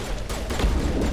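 Gunfire from a squad firefight in Mass Effect on Noveria, a dense run of overlapping shots and booms with no clear gaps, loud and close throughout.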